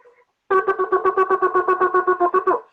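A shofar sustains one bright, brassy pitch broken into a rapid run of about sixteen short tongued pulses of a trua, close and alone, after a faint lead-in.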